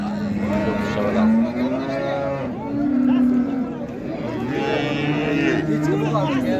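Cattle low repeatedly at a busy livestock market, long drawn-out moos that rise and fall one after another, loud and close, with people talking in the background.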